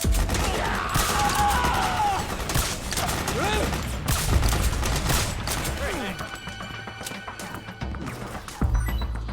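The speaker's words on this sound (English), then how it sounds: "Suppressing fire!" Gunfire from suppressing fire in Metal Gear Solid 4: Guns of the Patriots, a dense battle din of shots and crashes running throughout, with voices calling out over the chaos.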